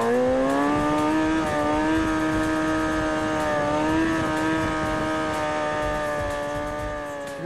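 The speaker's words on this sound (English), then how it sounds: "that's your standard clutch wheelie. You hear the RPMs jump up." Motorcycle engine revving hard for a clutch wheelie: a loud, steady, buzzing whine with the revs jumping up sharply a couple of times, heard alone and close.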